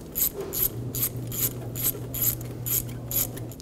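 A ratchet with a 5.5mm socket loosens the intake boot clamp on a 2013-2017 Honda Accord 2.4L, giving about eight quick, evenly spaced bursts of clicking over a steady low hum, close and fairly loud.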